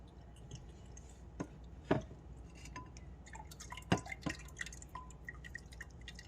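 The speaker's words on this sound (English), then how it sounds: "use my strainer here. And that's straining out the pulp, so you can see the pulp and the peel," Orange juice drips and trickles through a kitchen strainer as pulp and peel are strained out, a few sharp drips and small splashes spread irregularly over quiet background.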